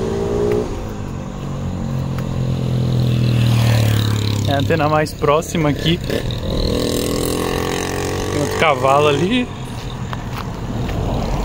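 Cars on a city avenue pass by with engine rumble and rising revs, a vehicle swelling loud in the first seconds, while someone speaks Portuguese over the traffic noise.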